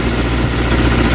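A Triumph Dolomite engine idles steadily up close, a continuous low rumble with even mechanical vibration and no pauses or speech.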